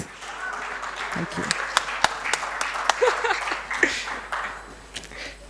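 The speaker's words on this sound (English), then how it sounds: "You did absolutely brilliant with that applause. Can we keep that going, please?" Conference audience claps steadily in a hall, a dense patter of many hands with a few sharper individual claps, while a voice speaks over it partway through.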